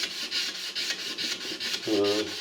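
Abrasive paper is rubbed by hand along a stainless steel knife blade about an inch wide, in quick, even back-and-forth strokes that sound close and dry, with a brief tonal squeak near the end.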